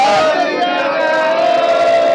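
A large Sikh gathering answers the jaikara call with a sustained collective shout, loud and close, blended voices holding a drawn-out chant.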